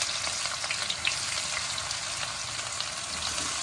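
Onions frying in oil with cumin seeds for a ripe mango curry, a steady close hiss of sizzling with faint crackles and small stirring ticks throughout.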